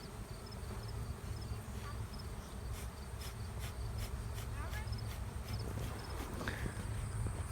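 Honey bees buzzing around farm hives, a steady dense hum close by with faint whines of individual bees passing, under quiet talk from people nearby.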